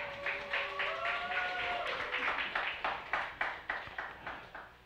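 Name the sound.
church congregation applause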